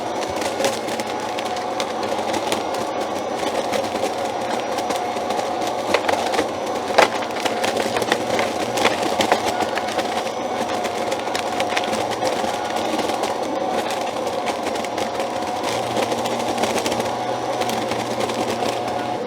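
STIHL SHA140 battery-powered leaf vacuum running continuously outdoors, a steady loud motor and fan roar with crackling debris rattling through it, close and without talk.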